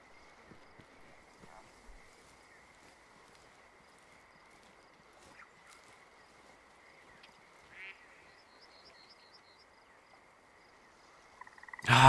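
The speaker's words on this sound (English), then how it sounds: "Ah, just more wild ducks." Wild ducks in the hunting game Way of the Hunter give faint, scattered quacks at a distance over a quiet outdoor ambience, with a louder burst at the very end.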